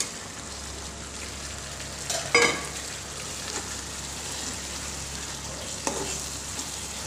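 Pointed gourd frying with a cashew and mustard paste and green chillies, a soft continuous sizzle with a couple of sharp utensil scrapes, close up, and no voices.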